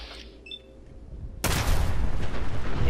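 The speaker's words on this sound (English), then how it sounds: "Nuclear explosions." After quiet ambient sounds, a mini nuke in a video game goes off in a sudden loud blast that erupts into a sustained roaring rumble continuing to the end.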